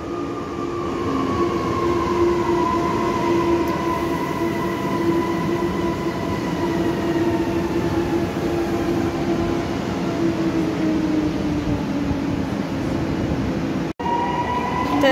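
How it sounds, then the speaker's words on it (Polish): An ŁKA regional passenger train pulls into Łódź Widzew station, a loud sustained rumble with rising and falling tonal whines from the motors as it rolls alongside the platform. "już wjeżdża kolejny pociąg ŁKA"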